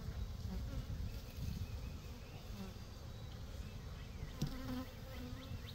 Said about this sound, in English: A lot of bees, they don't want to sting you at first.